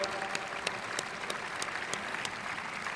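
Audience applause for Walter Kosh at a book club event at Citizens Bank Field, a soft, steady patter of clapping heard from a distance, with a few sharper claps standing out.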